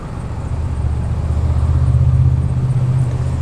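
Road traffic on a street in South Wales at dinner time, a steady low engine rumble of passing cars rising slightly and holding, with no talk over it.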